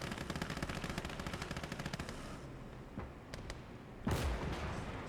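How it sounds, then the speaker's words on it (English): Machine-gun and cannon fire shelling a position in the World War II game Gates of Hell: Ostfront on a winter map, with rapid bursts of shots, then scattered single reports and a heavier blast near the end. "he's just pummeling that position with the gun"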